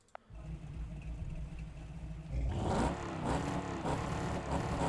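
Car engine in the racing game Wreckfest 2 rumbles low at first, then swells into a louder, rough revving growl partway through, with no talk.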